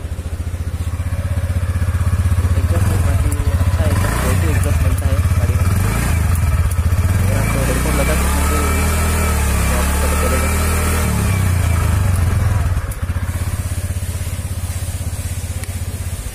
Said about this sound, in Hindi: चलिए इसका एग्जॉस्ट नोट सुन लेते हैं